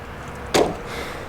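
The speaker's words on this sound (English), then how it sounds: "and then you're gonna close this door." A door on a 2021 Jeep Wrangler Unlimited High Altitude shuts with a single solid thud midway through, close by against a quiet background.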